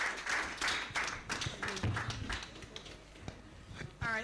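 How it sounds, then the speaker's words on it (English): Conference audience at Tech Convergence 2025 applauding someone speaker, a ragged burst of clapping that thins out over a few seconds, with voices talking over it. "keep applauding the lady"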